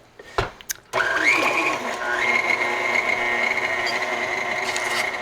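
An electric mixer beating cake batter with eggs for a pineapple upside-down cake: a few clicks, then a loud, steady motor whine that rises in pitch and holds close.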